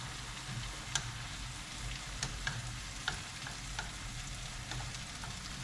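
Tomatoes frying in a pan give a faint, steady sizzle with a few light clicks and taps scattered through it, heard from a short distance with no one talking.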